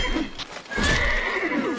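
A warhorse neighs loudly in a video game battle, a clear whinny rising over busy combat noise and faint hoof clatter, with no talking.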